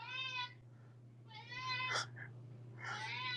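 A pet cat meows three times in slow succession, fairly close and clear over a steady low hum, with a brief faint vocal sound between the second and third meows.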